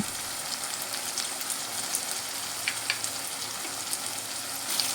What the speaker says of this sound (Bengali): এবার আদা আর রসুনটাও খুব ভালো করে ভেজে নেব